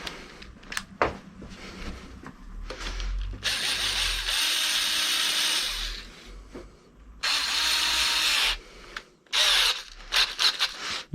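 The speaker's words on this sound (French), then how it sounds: "Et on visse." Power tool driving screws while fitting a Monorim suspension onto a Xiaomi M365 electric scooter, with bursts of ratcheting, whirring drill noise separated by short pauses and clicks, close up and loud, no talking.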